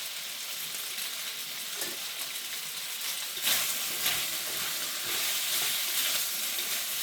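A chicken, shrimp and vegetable stir fry coated in cornstarch sizzles steadily in a hot pan, a dense frying hiss broken by a few light stirring scrapes.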